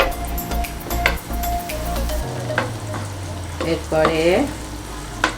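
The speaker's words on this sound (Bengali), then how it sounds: "তেল গরম হয়ে আসলে এতে আমি পেঁয়াজ, কাঁচামরিচ" Onions and green chilies sizzle and fry steadily in hot oil for a potato and egg dish, with occasional stirring and light utensil clinks, and a brief spoken word over the cooking noise.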